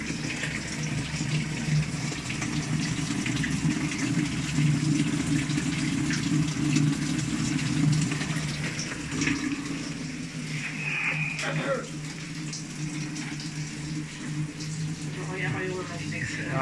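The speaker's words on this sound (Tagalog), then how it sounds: "diretso yung pasok ng tubig niya. At the same time, diretso yung tapon" Water runs straight into a drain in a steady, even stream, with a voice briefly heard over it partway through.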